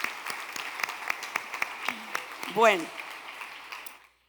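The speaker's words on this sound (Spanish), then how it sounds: "aplausos" A church congregation gives scattered, sparse claps with distinct individual hits, while a voice speaks briefly over them before the room falls silent.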